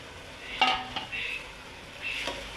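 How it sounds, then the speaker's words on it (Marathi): Washed rice for green pea rice sizzles faintly as it is stirred and fried in a pan, with a few utensil scrapes and clinks against the metal, all close and quiet. "आणि आता ह्याच्यात तांदूळ टाकून घेऊया आपण. फ्राय करायचे तांदूळ."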